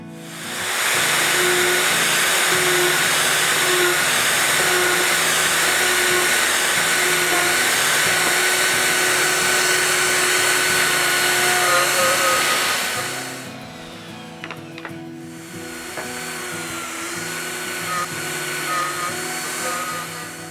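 A tool bores holes in a new MFT tabletop through a hole boring jig, giving a loud, steady whirring roar that runs on, then cuts off and gives way to a quieter hum with faint clicks.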